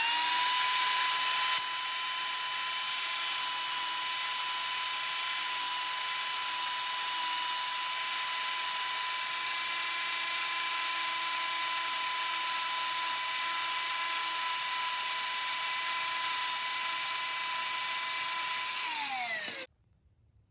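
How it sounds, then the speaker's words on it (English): An angle grinder grinds the top off a rivet on a motorcycle drive chain, a steady high-pitched whine held close and loud for about twenty seconds, winding down at the end, with no talking. "I'll take a grinder and grind the top of that little rivet off right there"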